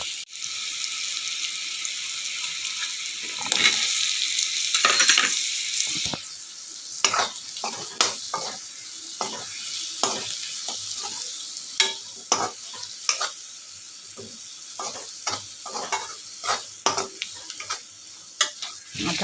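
Potatoes frying in a pan with a steady sizzle while a spoon repeatedly scrapes and stirs, producing a run of sharp, irregular strokes close up.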